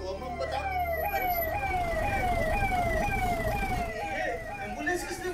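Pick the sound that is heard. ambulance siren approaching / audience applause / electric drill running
ambulance siren approaching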